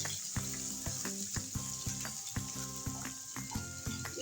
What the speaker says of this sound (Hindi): इसको डाल के हम इसको सौते कर लेंगे। हम इसको ब्राउन नहीं करेंगे, सिर्फ सौते करेंगे।